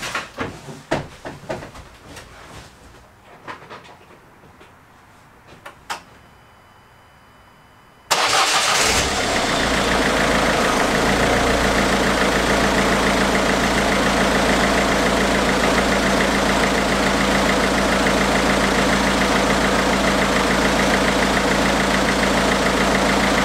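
A few clicks and clunks, then a 1.6 HDi DV6 diesel engine with a newly replaced camshaft sensor cranks and starts abruptly, settling into a loud, steady, rattly idle for a long stretch.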